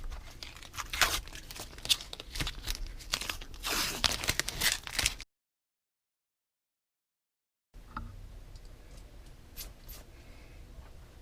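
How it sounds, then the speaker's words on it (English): Strips of tape peeled off a Harley Benton SC Junior electric guitar body, giving a run of crackling, tearing rips close by, a brief silence, then softer crinkles and a few sharper tugs. "Get this tape off of there."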